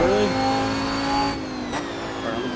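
A race car engine in a racing video game revs hard under throttle, a rising mid-pitched whine that holds steady and then drops after a gear change, loud and alone with no voices.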